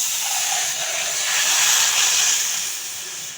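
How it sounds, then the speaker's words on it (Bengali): Water is poured into a hot bowl heating on the stove for boiling fish, letting out a loud, steady steamy hiss that swells and fades over a few seconds, heard alone without talk. "বাটিটা গরম হয়ে গেছে, এবার আমি জল দিয়ে দেবো"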